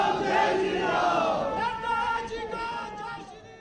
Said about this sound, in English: Nadda walks to the stage to deliver his maiden speech as the crowd chants slogans